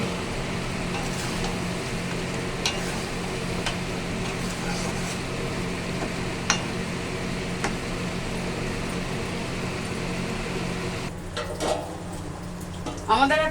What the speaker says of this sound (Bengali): মশলাটা আমাদের কষানো হয়ে গেছে, এবার ভেজে রাখা পটলগুলো দিয়ে দিলাম।